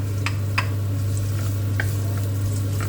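Garlic crackles and sizzles in hot oil in a pan for Spanish paella, with steady frying hiss and occasional sharp pops, close up, over a low constant hum and no talking.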